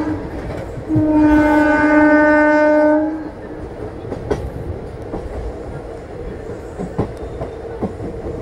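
An Indian train hauled by a WAP electric locomotive passes and sounds one long, loud, steady horn blast, followed by a low rolling rumble with scattered wheel clacks as it goes by.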